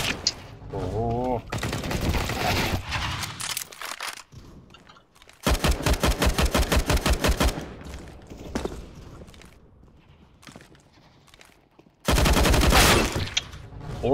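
Rapid automatic gunfire in the video game CS:GO, with loud bursts at the start, middle and end separated by quieter stretches with faint steps and a voice speaking.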